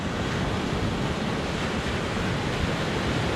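Ocean waves breaking on the beach at Ormond Beach, Florida, a loud continuous roar of surf with wind noise buffeting the microphone throughout and no voices.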